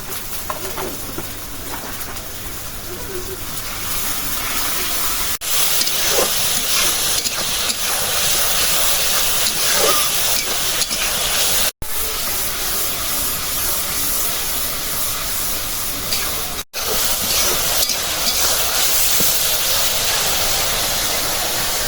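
Ground spices (turmeric, chilli, coriander and cumin) sizzle and fry in hot oil in a pan for a fish curry, a steady loud hiss running almost unbroken, with two brief dropouts.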